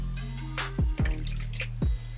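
A tablespoon of water dropped into beaten eggs for an omelet gives a few quick, close plopping drips over a low steady hum.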